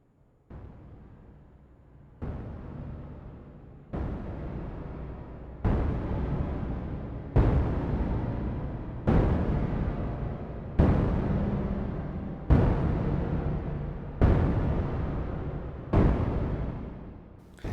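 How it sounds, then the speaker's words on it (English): Synthesized soundscape of heavy machinery-like thumps, roughly ten loud hits spaced about every two seconds, each swelling into a long shimmer reverb tail that fills the gaps, with no voices. "That first layer is creating this crazy thumping sound that sounds to me like it's some part of a machinery that's doing something pretty heavy"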